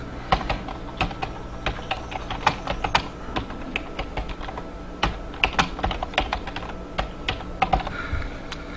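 Computer keyboard keys tapped repeatedly while tabbing through the default fields of a freight shipment entry screen, giving a steady run of close, crisp clicks with small irregular clusters and no talking.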